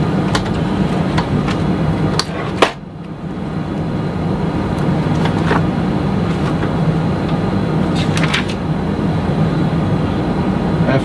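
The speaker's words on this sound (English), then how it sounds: "We will start engine with the pneumatic power" Aircraft engine starting on external pneumatic power, a steady loud broadband roar and whine with a low hum, punctuated by a few brief clicks and a short thump near the start.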